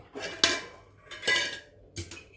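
Spiny gourds roasting in a metal pan are flipped over, giving three sharp clanks of utensil against pan, each followed by a short rattling scrape, spaced about a second apart and fairly quiet.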